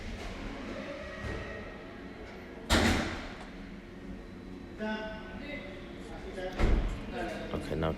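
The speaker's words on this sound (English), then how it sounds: "At the same time, put the door card back on the door." A plastic door card is pressed back onto the front door of a SEAT Altea, giving two sharp, loud thumps of clips snapping home amid lighter handling rustles, while someone talks throughout.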